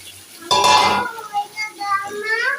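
Curry is tipped into a fried spice paste in a cooking pot, making a short, loud sizzling splash. Softer stirring clinks follow, with a voice speaking faintly underneath.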